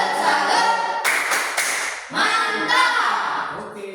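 A classroom does a rhythmic salute clap, with quick group claps in bursts mixed with chanting voices, fairly close and loud.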